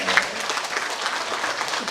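An audience at a Yongin mayoral candidates' social welfare policy debate breaks into brief, dense applause, steady clapping that fills the room for a couple of seconds.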